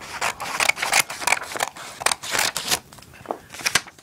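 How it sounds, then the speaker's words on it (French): Scissors snip through folded origami paper along a border, a close series of crisp, irregular cuts and paper crackles with brief pauses between strokes. "on va découper selon cette bordure avec les ciseaux"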